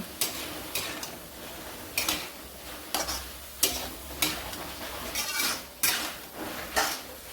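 Grated radish being stirred into hot tempering in a pan: a spoon clinks and scrapes against the metal in regular, sharp strokes, close by, with no voices.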